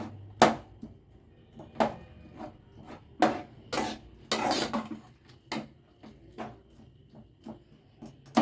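Egg noodles being stirred in a pan on the stove, giving a series of irregular, close scraping and clinking strokes of utensil against cookware with short quiet gaps between them.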